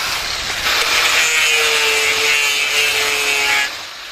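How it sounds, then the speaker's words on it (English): Steady rhythmic rasping of sandpaper rubbed back and forth across a sculpture's hard surface, close up, continuing for several seconds before easing off. "still sanding her pieces for her forthcoming exhibition"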